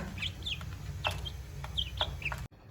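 Chickens give short, high clucks and chirps in scattered bursts over a low hum, fairly close, ending abruptly.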